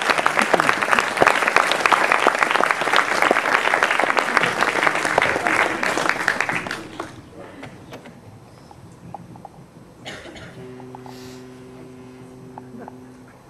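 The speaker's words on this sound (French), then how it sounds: "je vous demande de les applaudir parce qu'ils ont fait un travail excellent" Dense, loud audience applause fills the first seven seconds of a Cinémondes 2015 film festival closing evening, then drops abruptly to a low room hum with faint steady tones and scattered small noises.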